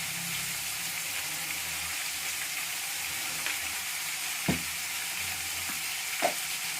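Vegetables with tomato frying in a pan, a dense, even sizzle that hisses steadily throughout, with a couple of faint clicks of a utensil, close and continuous.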